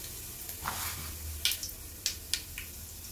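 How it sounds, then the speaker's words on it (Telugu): Cumin and mustard seeds dropped into about three spoons of hot oil, giving a quiet sizzle with several sharp crackling pops and spits scattered over a few seconds. "దీనిలోనే 3 స్పూన్ ఆయిల్ వేడెక్కాక కొద్దిగా జీలకర్ర,"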